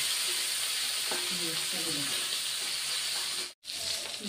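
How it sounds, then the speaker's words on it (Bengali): Small rohu fish frying in hot oil, a steady broadband sizzle with faint stirring clinks, close and continuous, with a brief dropout near the end. "2বারে ভেজে নিতে হবে"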